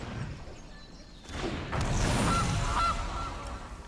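A goose card in MTG Arena enters play with a sudden thump, followed by a loud game-sound goose honk over a swelling effect, with no talking.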